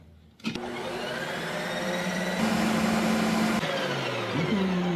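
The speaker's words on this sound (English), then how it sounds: "let's spin it and make it into ice cream first, and then taste it again" A home ice cream machine spins a frozen macadamia nut dark chocolate raspberry base, starting abruptly and holding a loud, steady motor whine with shifting pitch as the blade works through the pint.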